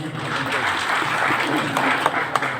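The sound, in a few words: audience clapping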